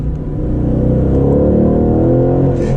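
The AMG V8 in a 2020 Aston Martin Vantage revs up loud and close, its throaty note rising smoothly in pitch and then easing off.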